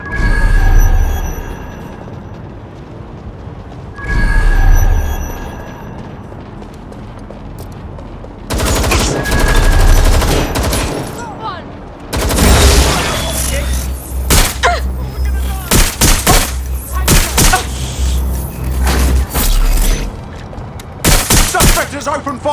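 Gunfire in the Watch Dogs Legion video game: rapid bursts of automatic shots and heavy bangs crowd the latter half, preceded by quieter stretches with game sounds and voices, loud and close.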